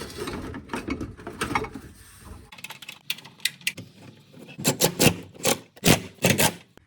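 A bracket for the centre support bearing is refitted under a Ford Escape with hand tools. Close scraping and rubbing metal come first, then a run of quick ratchet clicks and bolt-tightening bursts, with no speech.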